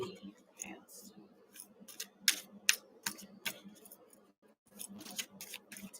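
Tarot reading cards are shuffled by hand in a series of close, crisp riffling snaps and flicks, in short bursts with brief pauses.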